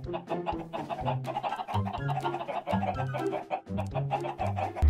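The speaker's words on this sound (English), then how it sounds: "All we have to do now is get the chickens." Minecraft chickens cluck repeatedly in short, bouncy bursts, several birds overlapping near the listener in an irregular rhythm with no talking.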